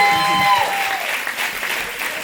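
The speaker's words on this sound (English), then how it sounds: "Y'all clap it up for Investor Tank." An audience applauds at a live business pitch event, a steady wash of clapping lasting a couple of seconds, fairly close and even throughout.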